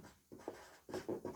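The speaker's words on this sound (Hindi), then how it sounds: "आइए लिखते हैं इसको" Marker or chalk writing on a board during a chemistry lesson on solution molarity, a few short scratchy strokes in quick bursts, close and fairly quiet with no talk.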